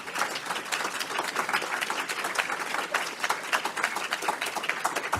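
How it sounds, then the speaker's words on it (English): Dense audience clapping at a global nutrition research talk, steady and fairly loud across the whole stretch with no voices over it. "You guys can clap a little more."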